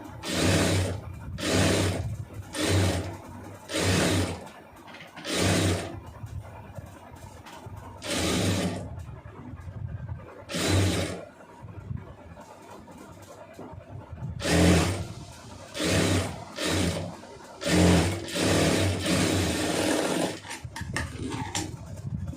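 A sewing machine runs a blouse seam in repeated short stitching bursts with brief pauses between them, close and fairly loud over a quiet background.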